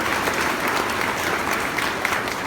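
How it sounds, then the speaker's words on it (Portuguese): A church congregation applauds in a steady, dense wash of clapping for the whole stretch, loud and close, with no voices standing out. "uma salva de palmas para Jesus"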